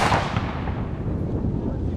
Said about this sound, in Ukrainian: Кожен бажаючий міг спробувати під наглядом військових постріляти.